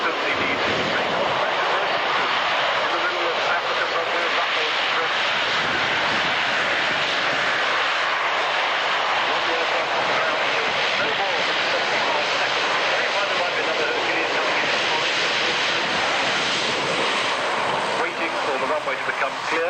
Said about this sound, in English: Hercules reversing back down the runway to get the good distance he needs to take off